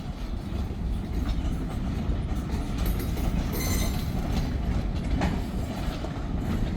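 A long freight train hauled by a single locomotive rolls past a county road crossing, a steady close rumble of wagons with rhythmic clatter and brief metallic squeals, no voices.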